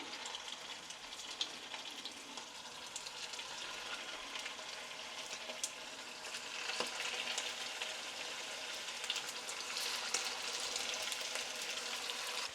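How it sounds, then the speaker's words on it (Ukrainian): Steady, close sizzling of food frying in oil, with a constant crackle and occasional louder pops throughout. "Будемо ще смажити. Розігріли сковородку, олійки."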